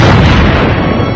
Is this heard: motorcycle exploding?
yes